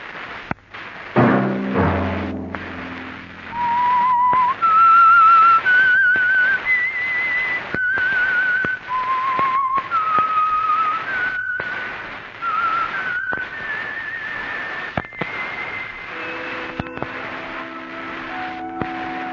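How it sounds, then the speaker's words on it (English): A lone whistler carries the eerie signal tune of The Whistler radio program, a slow rising and falling melody of sustained notes, opened by a low orchestral chord and accented by soft thumps. "Let that whistle be your signal for the Signal Oil program, The Whistler"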